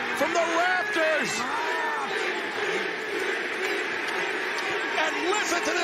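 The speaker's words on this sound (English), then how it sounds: "And listen to this crowd, it has come unglued!" An AEW Dynamite wrestling arena crowd roars and screams continuously at full volume for the whole stretch, with excited voices rising out of the din.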